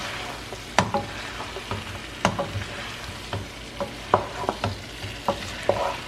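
Spoon stirring dum aloo with tomatoes in a hot pan, sharp scraping knocks recurring every half second or so over a low steady sizzle, close and clear with no talking.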